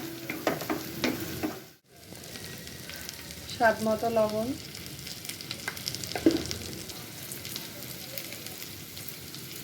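Refrigerated green chillies fry in a wok with a continuous soft sizzle and crackle, close by, while a person talks briefly over it.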